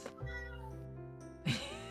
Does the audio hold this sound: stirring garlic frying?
no